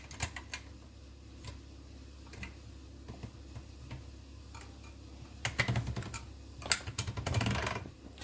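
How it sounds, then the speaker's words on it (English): A sheet of polymer clay is rolled through a hand-cranked pasta machine on its thickest setting. Light ratcheting clicks and ticks tap along steadily, then give way to louder grinding rolling bursts near the end, with no voices. "let me roll it through once on my thickest setting"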